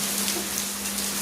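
Heavy rain falls in a steady, dense hiss of drops, with a faint low hum underneath.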